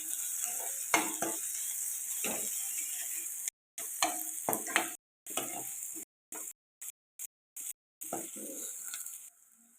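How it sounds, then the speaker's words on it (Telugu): Ginger garlic paste sizzles in a pan for chicken curry while a utensil scrapes and stirs it, steady frying crackle broken by short scraping strokes and several abrupt gaps of silence, close-up with no talking. "ఇలా కలుపుకుంటూ ఒక నిమిషం పాటు ఫ్రై చేసుకుంటాం"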